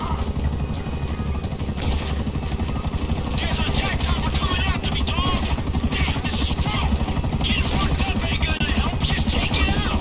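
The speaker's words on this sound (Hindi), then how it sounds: "हमारे पास हेलीकॉप्टर भी आ गया।" A helicopter arriving in the video game GTA V, its rotor chopping steadily under a continuous engine drone, growing slightly louder, while a person talks over it and game effects flicker in.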